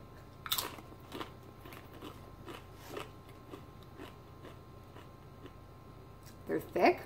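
Thick Mackie's sea salt potato crisps bitten and chewed close up, sharp crunches at the start followed by softer rhythmic chewing, with another burst of crunching near the end.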